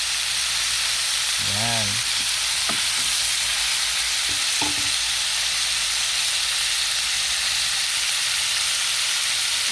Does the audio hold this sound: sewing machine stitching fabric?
no